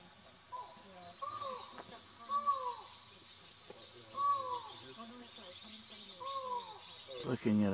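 A great black hawk gives a ringing song near San Blas, Mexico: a repeated clear, slightly descending call, four times at about one-and-a-half-second intervals, moderately near amid rustling background noise.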